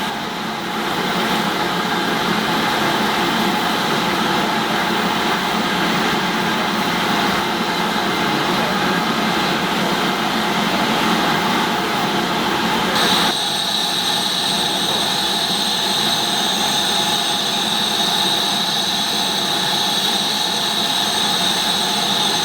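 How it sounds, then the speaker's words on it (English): Steam locomotive standing at close quarters after arriving on a service from Whitby, a loud steady roar of steam and machinery throughout, with a sharp hissing blow-off starting partway and continuing alongside. "Look around the locomotive in close quarters after the engine arrived on the 12:45 service from Whitby."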